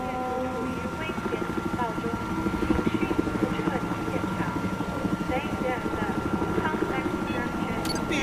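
A MAV drone in a video game buzzes overhead with a steady, rotor-like drone that holds at an even level throughout, while voices talk over it.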